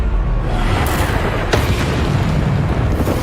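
A Descendo spell lands in Hogwarts Legacy with a loud, heavy booming impact and a sharper crack partway through, all over a dense rumbling wash of battle noise.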